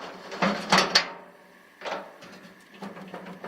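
A drawer on a Craftsman five-drawer rolling tool cabinet slides and catches its locking tab, giving a sharp metallic clatter, then two more shorter slides and clunks, close and loud against quiet.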